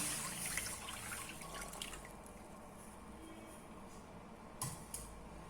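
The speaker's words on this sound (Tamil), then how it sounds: "இந்த பீட்ரூட் ஜூஸ் ஊற்றிக்கலாம்" Beetroot juice pours steadily into a pan with a soft, continuous splashing hiss, quiet and close, with a couple of light knocks near the end.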